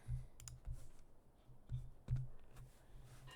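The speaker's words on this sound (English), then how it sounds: "Let me just click on this really quick" Sharp mouse clicks, near and fairly quiet, come in a loose irregular series of single and double taps over a low background hum, with no talk.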